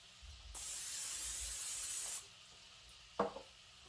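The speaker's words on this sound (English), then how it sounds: "I use a little oil spray." Cooking oil spray hisses from a can into a pan in one steady burst of a bit over a second and a half, fairly close, followed by a soft knock and a faint clatter.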